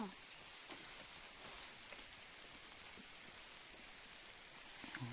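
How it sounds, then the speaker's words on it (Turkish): Steady rain falls outside a home where a cake is being baked on a wood stove, a constant soft hiss of drops with occasional louder pattering taps, fairly close and continuous throughout. "Yağıyor."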